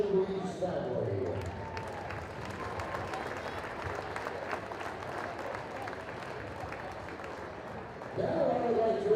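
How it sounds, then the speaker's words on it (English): An audience claps at a high school boys' varsity basketball event in a gym, a steady, even applause that runs for several seconds, with someone speaking over it at the start and end. "Ladies and gentlemen, please join me in a round of applause to thank Mr. Reeves and the Reeves family."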